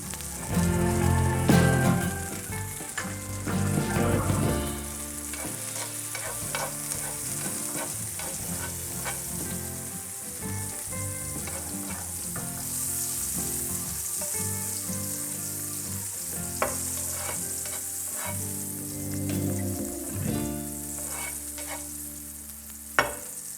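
Garlic sizzles and crackles in ghee and butter in a pan, a dense, continuous frying hiss with scattered pops and stirring scrapes, close and fairly loud with no talking.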